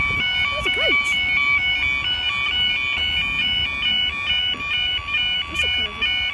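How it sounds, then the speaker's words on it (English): Level crossing warning alarm at Wallingford, Oxfordshire, sounding as a steady, loud electronic tone pattern that repeats throughout, with someone speaking intermittently over it. "That's a kind of a different sound alarm."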